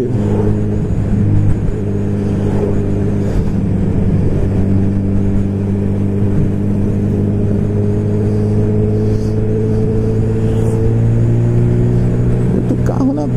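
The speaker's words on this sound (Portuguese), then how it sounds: "Muito carro na pista, hein?" Heavy traffic on a busy road heading toward Cabo Frio, a loud continuous rumble of car engines droning steadily, with a voice talking over it.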